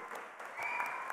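An audience at a grand launch event for Dil Raju Dreams claps in a short, steady burst of applause that sounds moderately distant.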